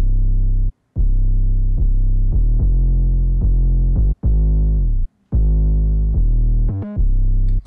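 An original 808 bass sample plays as a loud, deep electronic bass line, with repeated sustained notes separated by brief gaps of silence.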